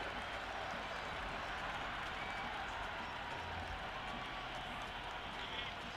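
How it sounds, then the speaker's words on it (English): Crowd at a cricket stadium during an India versus New Zealand T20 match applauding a shot, a dense, steady wash of distant clapping and cheering that holds without a break. "The crowd are loving every minute of this match."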